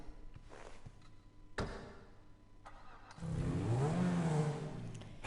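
A Grotti Turismo R supercar in GTA V starts up and revs, a low engine note rising in pitch around mid-clip after a few sharp clicks and quieter moments, loud and close with no talking.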